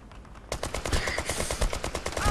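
Rapid bursts of automatic gunfire in Brothers in Arms 3, sharp repeated shots in a fast rhythm, loud and close after a brief quiet start.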